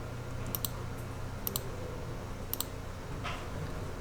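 Sharp mouse clicks come in quick pairs, three times at even intervals, while dimension lines are edited in CAD drafting software; the room is otherwise quiet with faint hum.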